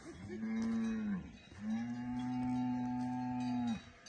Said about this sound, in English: You can hear the cattle there.